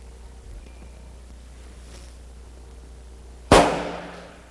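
An 1800s Napoleon field gun cannon fires once after a quiet stretch, a single sharp loud boom that trails off into a rumbling decay.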